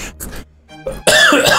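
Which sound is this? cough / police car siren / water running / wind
cough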